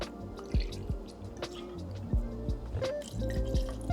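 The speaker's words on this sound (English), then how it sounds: "Now we're gonna add our rum and cider." Rum is poured into a cocktail shaker for an apple cider drink, making a run of quick, close, hollow drips and gurgles with no one talking.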